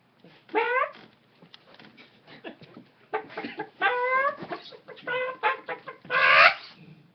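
A voice imitates a clucking chicken during a comedy routine, with repeated nasal clucks and squawks in uneven bursts, loud and close, the last one the strongest.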